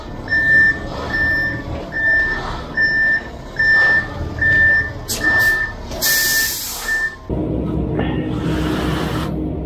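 A concrete truck reverses on a house-floor pour site, its backup alarm beeping in a steady repeating rhythm over a low engine rumble, then the beeping stops and the engine noise swells with a brief hiss.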